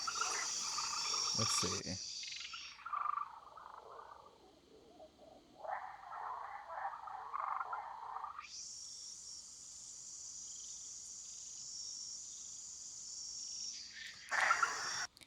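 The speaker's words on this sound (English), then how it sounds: "I pretty much just want that sound of crickets" A steady, high-pitched chorus of crickets chirps continuously in a rainforest, a dense insect drone that shifts in layers and stays fairly faint throughout, with a brief voice at the start.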